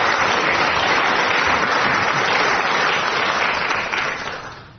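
Studio audience applause on a radio quiz show, a dense, steady roar of many hands clapping that holds loud throughout and tapers off in the final half second.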